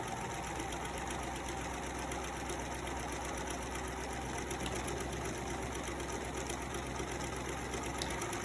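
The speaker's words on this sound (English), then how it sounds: "we're going to start stitching again with the fabric aligned at the edge of the presser foot" A sewing machine runs continuously, stitching a pillowcase seam a quarter inch in along the presser foot, with a steady close mechanical whir and rapid needle chatter throughout.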